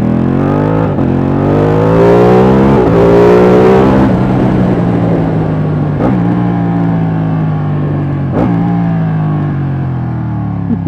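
A Ducati 1199 Panigale L-twin motorcycle engine accelerates hard on a test ride, a loud, close roar that climbs in pitch through gear after gear with quick-shifter breaks between them, and no speech over it.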